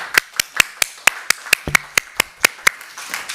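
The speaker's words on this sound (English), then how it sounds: "I would ask that everybody join me in a round of applause for City Council for doing the right" Applause for the city council at a Burbank city council meeting, heard as a sparse, steady run of sharp claps, roughly a dozen evenly spaced, fairly close and clear, fading at the end.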